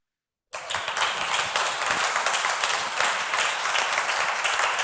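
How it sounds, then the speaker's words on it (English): A conference audience breaks into sustained applause after a brief silence, the dense clapping holding steady and fairly loud with no voices over it. "Marco, you have heard the applause."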